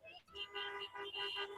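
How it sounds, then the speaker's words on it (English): Several car horns honk in a crowd of parked vehicles, overlapping toots and sustained blares rising and falling, moderately distant, with no talk over them. "why don't you honk some horns and let them know that you're here"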